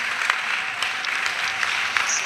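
Congregation applause and acclamation at an annual missionaries' retreat in Côte d'Ivoire, a steady wash of clapping with scattered cheers filling the whole stretch at moderate level.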